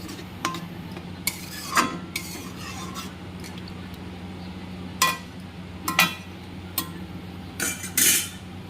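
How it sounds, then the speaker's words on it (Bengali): Spoon scraping and clinking against a pan while yogurt masala is stirred over a low flame for Bengali doi katla, sharp strokes at irregular intervals over a soft steady sizzle. "ভালো করে টক দইটার মশলাটা ভালো করে কষিয়ে নেবো"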